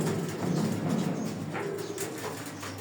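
Captured pigeons cooing softly and repeatedly, with low murmuring coos layered over a steady background hum.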